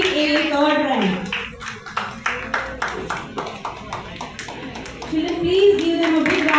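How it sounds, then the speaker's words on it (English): Children applaud at a scholarship distribution ceremony with a run of rhythmic claps in the middle, partly under a voice on a loudspeaker that speaks before and after. "Children, please give them a big round of applause."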